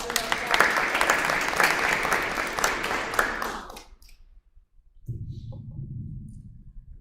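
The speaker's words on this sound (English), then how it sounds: "Let's give them a round of applause." Audience at a school board meeting gives a round of applause, steady clapping for about four seconds that fades to silence, followed by low background rumble.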